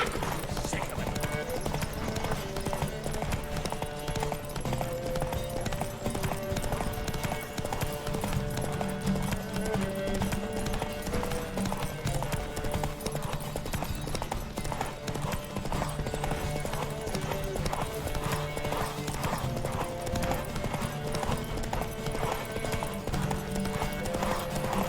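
A horse gallops during a race in The Witcher 3, hooves clip-clopping in a rapid, continuous rhythm for the whole stretch, close and steady, layered over game music with occasional whinnies and voices.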